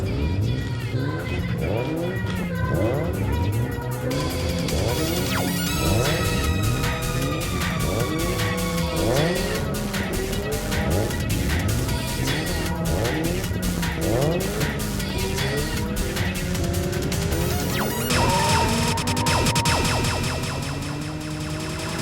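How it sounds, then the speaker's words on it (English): Autocross cars racing around a course, engines revving up and down repeatedly with frequent tire squeals and skids, loud and close, continuous over about twenty seconds without talking. "So that's autocross, in case you're unfamiliar with it."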